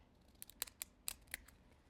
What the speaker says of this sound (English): take this fabulous paper plate and just cut the rim off of a small section